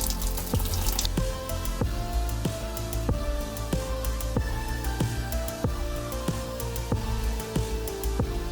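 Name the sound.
beer wort dribbling into a fermenter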